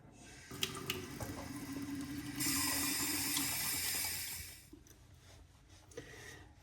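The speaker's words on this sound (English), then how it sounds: "We're gonna rinse." Tap water running into a sink while rinsing after a wet shave, a steady splashing gush that swells, then trails off into quiet drips, close and alone.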